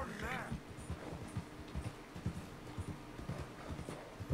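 Horse hooves clip-clopping in Red Dead Redemption 2, a steady rhythmic patter of close, fairly loud hoofbeats that continues throughout at an even trotting pace.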